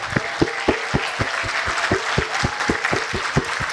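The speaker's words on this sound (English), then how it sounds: "Another resounding applause, please." An audience at a law school alumni homecoming and anniversary celebration applauds, with a steady crowd clap underneath and a distinct loud clapper nearby beating a regular rhythm, roughly three to four claps per second throughout.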